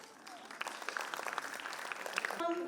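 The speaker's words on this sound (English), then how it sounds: "let's give big round of applause for our superstars" Steady applause from the audience at a school annual function after young children perform, clapping densely and fairly loudly throughout, with a few faint voices mixed in.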